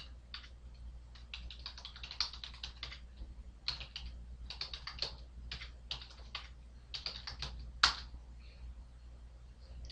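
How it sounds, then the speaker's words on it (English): Fingers type on a computer keyboard while entering titles into a blank Excel 2010 workbook, a quick, uneven patter of close key clicks in short bursts with brief pauses and one sharper tap near the end. "just start typing in your titles."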